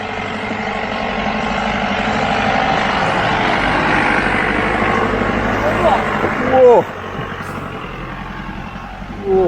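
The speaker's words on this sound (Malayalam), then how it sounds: "വണ്ടി കയറുന്നോ കടുമ്പട്ട് കയറ്റവാ കടുമ്പട്ട് കയറ്റം" An off-road vehicle labours up a steep, rocky hill track at Varattumedu near Vagamon, its engine droning steadily and loudly with a brief surge near the end, while people talk and shout over it.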